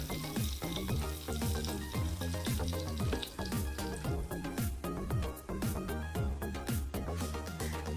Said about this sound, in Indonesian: energi panas dari api ditransferkan melalui aluminium atau sendok ini, kemudian akan menghantarkan panas ke mentega sehingga mentega ini dapat mencair